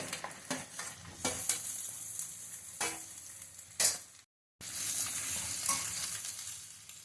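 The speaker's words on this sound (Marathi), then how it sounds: "आता हा बटाटा आपण पिसेसमध्ये करून घेतलेला आहे बटाट्याचे तुकडे ते घालूया" Potato pieces sizzling and frying in a pan, a steady close hiss broken by sharp stirring scrapes and a brief dropout midway.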